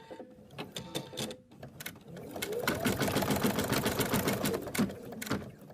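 An embroidery machine stitches an arm placement line for a teddy design, starting with scattered taps and rising into a fast, continuous mechanical chatter of needle strokes, close and moderately loud.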